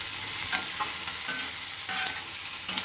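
Chutney being stirred and roasted in a pan for a North Karnataka style fresh chilli chutney: a steady soft sizzle with a few brief scraping strokes of the spoon, close and fairly quiet, no voices.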